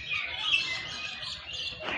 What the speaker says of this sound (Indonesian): ini burung cendrawasih nih, the bird of paradise